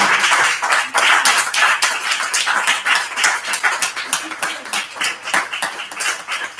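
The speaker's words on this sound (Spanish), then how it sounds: "quería que diéramos un fortísimo aplauso a Pilar Fidalgo" Audience applause for Pilar Fidalgo at a presentation of Asturian-language magazines, a dense crowd clapping loudly and steadily throughout with scattered sharp claps standing out.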